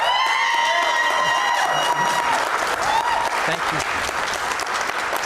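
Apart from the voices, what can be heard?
live debate audience applause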